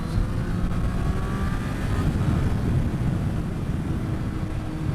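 A Triumph Street Triple 765 RS 2023 motorcycle accelerates to overtake, its engine a steady, fairly quiet drone with a brief rising pull, heard from the rider's position with continuous wind and road noise.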